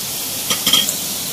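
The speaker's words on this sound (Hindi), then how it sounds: "इन सब चीज़ों को भी हमें प्याज के साथ अच्छे से फ्राई करना है" Quiet, steady sizzling with a couple of soft scraping stirs in the middle, as spices and onions fry in a pan.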